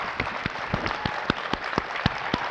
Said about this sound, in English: Please, a round of applause for our wonderful panelists.